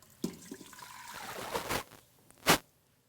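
Water pours into an Instant Pot in short splashy bursts, a brief trickle and then one louder gush near the end, close by and with no talking.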